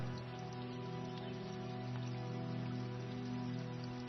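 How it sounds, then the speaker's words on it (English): Steady rain falling, a dense, continuous wash of drops with a low rumbling undertone, even in loudness throughout and no voices. "Rain sounds are loud yet give calming effect."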